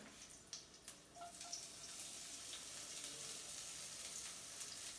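Onion sautéing in oil in a kadai, a soft continuous sizzle with a few light clinks at the start, fairly quiet and steady.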